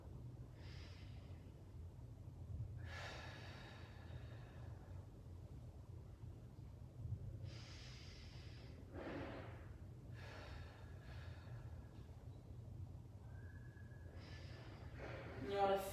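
A person doing a brace breathing exercise during a core fitness session takes several short, sharp breaths with pauses between them. The breaths are quiet and close, over a low steady background hum.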